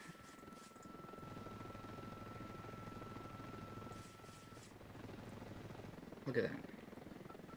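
A helicopter in the video game Ravenfield drones with a steady, close rotor hum that dips briefly, with a short loud burst near the end and a voice speaking over it.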